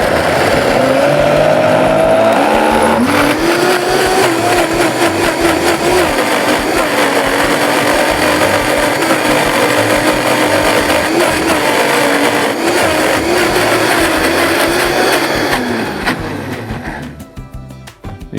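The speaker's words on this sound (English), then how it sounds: "then give this a blend" A countertop blender whirs loudly and steadily while blending cheese with dill, its motor pitch shifting slightly as the mixture thickens, then winding down at the end.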